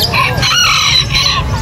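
Chickens and roosters cluck and crow at the Angeles City pet market, loud and close, with overlapping calls over a dense, busy crowd background.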